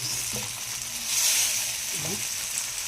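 Garlic fries in a pan for liver sandwiches, a steady close sizzle with brief stirring scrapes underneath.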